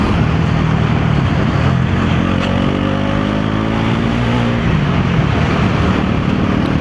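A motorbike ridden along a road on the way home from Kathmandu, a loud, constant engine drone mixed with heavy wind buffeting and no speech.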